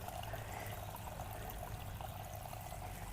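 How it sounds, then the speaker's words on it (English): A small garden water fountain, kept topped up for dogs, trickles steadily and softly in a front yard in South Carolina, a continuous faint splashing with no voices. "And here's another little fountain."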